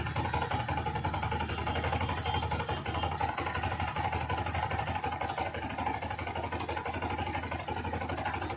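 A Bajaj Platina 110 motorcycle engine idles with a rapid, steady chugging as its fuel mixture screw is loosened, its pace creeping up slightly over time; close and continuous with no talking.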